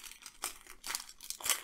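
Foil wrapper of an NBA Hoops Premium Stock 2019 retail trading card pack crinkles and tears open in a few short, close bursts, quiet, with no talking.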